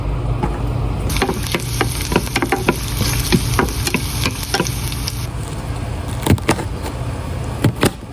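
Minced garlic sautéing in a hot pan gives off a steady crackling sizzle, with sharp pops and spatters scattered throughout and no voices.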